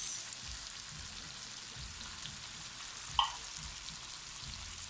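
Sardines frying in a pan with sautéed garlic, onion and tomato give a steady, close sizzle and hiss throughout, with one brief utensil clink just past the three-second mark.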